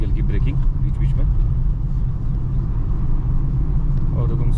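A car engine held in third gear while descending a hill on a tight road, with light braking at intervals, gives a loud, steady low rumble throughout as a person talks over it.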